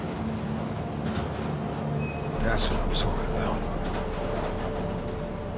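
A train in the Spider-Man Remastered video game rumbles along with a steady low roar, picking up a louder clattering burst midway, under game sound and a voice.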